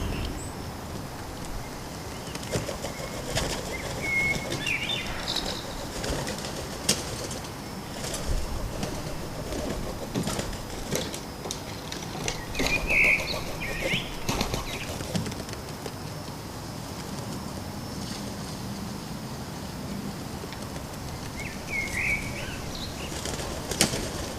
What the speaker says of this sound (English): The sounds of the pigeon fight is distracting the starling while it drinks.